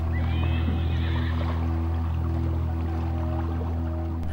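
A horse neighs once, a high wavering whinny in the first second and a half, over a steady low hum and murmuring background, with no speech.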